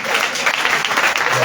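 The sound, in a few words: congregation applauding in church service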